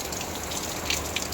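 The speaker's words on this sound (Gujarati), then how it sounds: "જો વરસાદ એક ધારો આવે છે." Steady rain pours down outside a rented room, a continuous hiss of falling water with a few brighter drips or splashes, fairly faint and without any voices.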